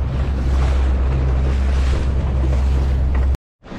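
Strong wind and waves on a fishing boat at sea off Perth, Western Australia, a steady loud roar of wind buffeting the microphone over washing water, cutting out abruptly near the end.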